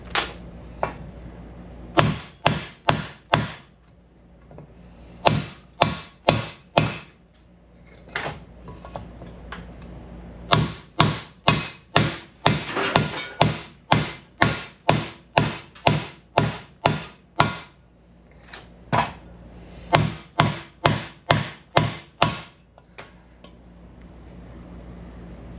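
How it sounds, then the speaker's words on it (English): Metal hammer strikes from a ball-peen hammer working on a Barbie Jeep, sharp ringing taps in quick bursts of three to six, pausing between clusters, loud and close with no talking. "Switch to the ball peen."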